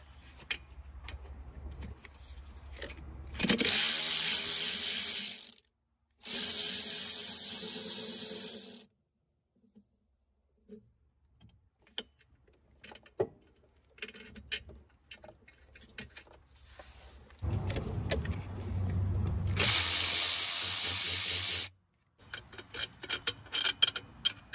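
A ratchet works on 13 mm alternator bolts on a Jeep Grand Cherokee WK2, with several long runs of fast, loud clicking close by, separated by quieter gaps of scattered taps and metallic clinks.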